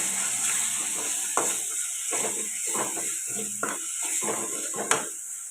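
Spices such as coriander powder being stirred in a frying pan for egg curry, a soft continuous sizzle broken by repeated scraping strokes and a few sharp spoon-on-pan clinks, close and fairly quiet.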